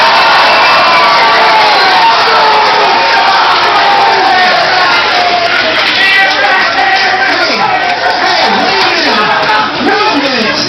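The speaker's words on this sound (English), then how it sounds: "How about we give him a round of applause?" A large convention crowd at a fan event roars and cheers continuously, loud and close, with shouts and chatter woven through a dense wash of noise.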